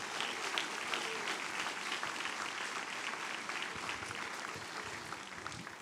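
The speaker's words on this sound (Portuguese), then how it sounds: "Você vai aplaudir forte o nome de Jesus." A church congregation applauds loudly and steadily during a worship service, dense continuous clapping filling the room from start to finish.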